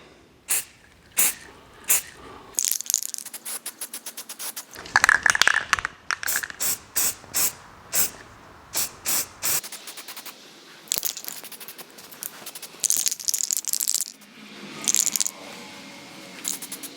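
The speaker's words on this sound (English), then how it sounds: "I've put a couple more primer coats on all these places" An aerosol can of primer is sprayed onto a damaged car bumper in a series of short, close hissing bursts, some quick and clipped and others held for a second or more, with brief pauses between passes.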